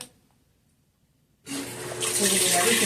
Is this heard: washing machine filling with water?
yes